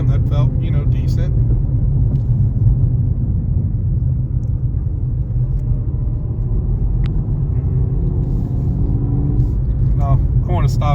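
A Whipple-supercharged car engine driving on the road, a loud, steady low rumble close to the cabin, with voices talking over it at the start and end.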